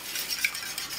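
Eggs whisked with milk, a pinch of salt and vanilla, a quick soft scraping and tapping of a whisk against a bowl, faint and brief with no talking.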